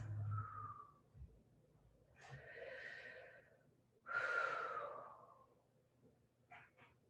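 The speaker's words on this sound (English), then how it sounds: "we're just going to stay here for 3 really slow, easy, deep breaths" Slow deep breaths during a yoga stretch, three soft drawn-out inhales and exhales close to the mic, separated by quiet pauses, with no talking.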